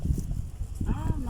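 Horse hooves clip-clop in a steady, uneven rhythm on the ground nearby, mixed with outdoor bustle, while people talk and another voice rises briefly at the end.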